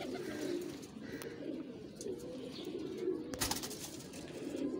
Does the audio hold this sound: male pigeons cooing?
yes